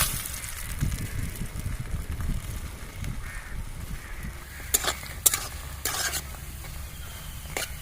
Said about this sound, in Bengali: সব বড়াটা ভেজে নেবো